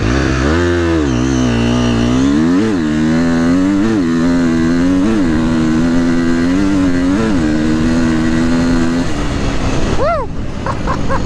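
A KTM 350XCF dirt bike revs hard at full throttle, the loud engine note surging up and down repeatedly before a final high wail, with a voice briefly breaking in near the end.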